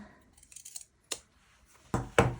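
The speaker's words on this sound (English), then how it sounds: "I'm just going to snip around it" Scissors snipping into fabric around a sewn V neckline on a pinafore dress: faint small clicks, then a single sharp snip and two louder cuts close together near the end.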